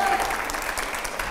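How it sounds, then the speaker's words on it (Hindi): Studio audience at a Hindi political debate show bursts into dense, continuous applause, loud and close, filling the whole moment. "ओके, जोरदार तालियां हो यहां पर।"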